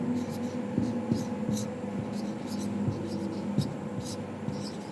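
Pen or chalk scratching out notes during a Hindi-language lesson, a series of short strokes running under a steady low room hum, with a voice speaking throughout.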